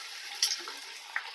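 Onions frying in oil until golden brown, a steady close sizzle with a couple of faint ticks of stirring.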